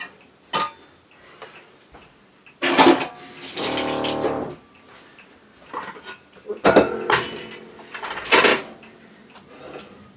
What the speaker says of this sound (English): I always clean these whisks off like this.